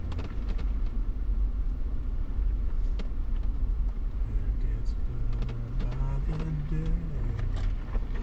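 A car driving on the White Rim Road dirt track, with a steady engine drone and a continuous rumble of tires and rattling over the rough surface, and faint voices now and then.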